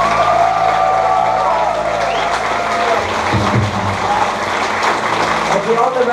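An audience applauds a choir at a concert in Kåfjord, a thick, sustained wall of clapping that stays loud throughout, with some voices underneath.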